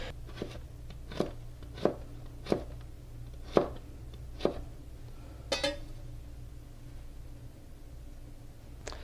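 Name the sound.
knife cutting carrots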